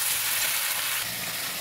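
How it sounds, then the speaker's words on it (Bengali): Meat fries in oil with onion and spices in a home kitchen, giving a close, continuous sizzle with a soft crackle. The sound holds even and unbroken, with no talk over it. "এখন মাংসটা ভাজা করছি"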